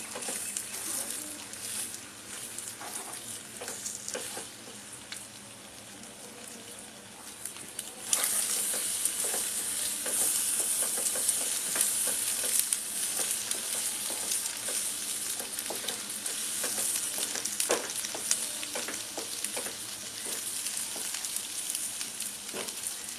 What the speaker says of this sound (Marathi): हे आता आपण असं हळूहळू परतून घेऊया